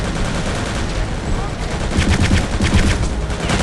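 Rapid gunfire in the video game Return to Castle Wolfenstein crackles through a dense, loud mix of battle noise, keeping up steadily for a few seconds without a break.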